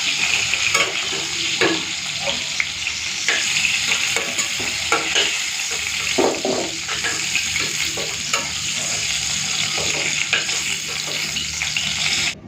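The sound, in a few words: potatoes and pointed gourd frying in oil, stirred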